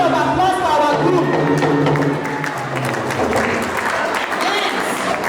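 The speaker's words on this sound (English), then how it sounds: "please, a big round of applause for our group." Wedding guests at a Samoan and Nigerian wedding clap steadily in a dense crowd, the applause filling the room at moderate loudness with voices mixed in underneath.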